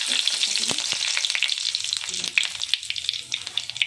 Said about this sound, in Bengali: জিরে গেল, তেজপাতা গেল